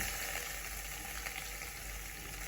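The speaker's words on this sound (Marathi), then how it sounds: "आता यात आपण टाकूयात कांदा" Chopped onion going into hot oil with garlic and cumin in a pan, a continuous soft, even sizzle with faint stirring, fairly quiet.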